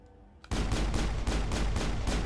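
Automatic gunfire in the video game Mass Effect erupts after a brief quiet moment, a loud continuous stream of rapid shots pulsing steadily in close-quarters combat.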